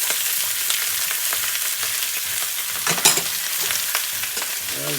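Shallots, garlic and mushrooms frying in a pan with a steady, bright hiss of sizzling and occasional stirring scrapes, close and continuous without talk.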